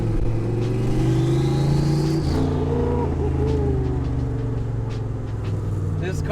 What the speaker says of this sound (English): you hear that turbo winding up